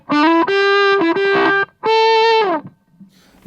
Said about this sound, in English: we've got the colour set in the middle and we're on the drive sound